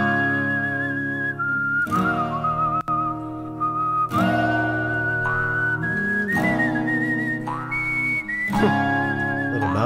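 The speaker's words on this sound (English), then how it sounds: "A whistle, you don't say." Bright, clear whistling carries a Wild West style melody in a Samurai Western video game music track, sustained phrases sliding between notes over plucked and galloping acoustic backing.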